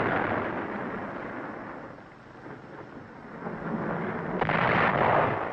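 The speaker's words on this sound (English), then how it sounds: "In the hands of experts, TNT was a powerful weapon. It blew in vents, caved in gun ports, sealed entrances and exits." TNT demolition charges during the wartime fighting on Okinawa in 1945 rumble as a steady, distant roar of blasts, swelling louder near the end, with no voices.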